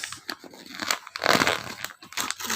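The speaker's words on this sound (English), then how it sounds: "Let's cut the wrapper from here with the scissors." Scissors cutting open a plastic wrapper during a toy unboxing: a close series of crinkling, crunchy snips and rustles in irregular bursts, with a louder stretch of tearing plastic partway through and no talk.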